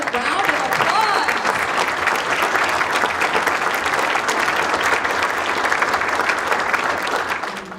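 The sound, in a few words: audience applause for award finalists and winners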